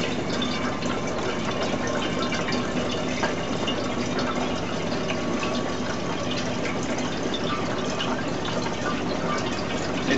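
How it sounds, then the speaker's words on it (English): Zero TDS water pouring steadily into a phytoplankton culture container as it is topped off, a continuous loud gushing fill with no pauses. "It has to be zero TDS water when you're culturing phytoplankton because any foreign elements in the water will kill your culture"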